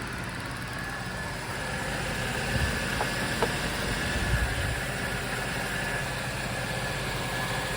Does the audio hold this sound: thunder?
no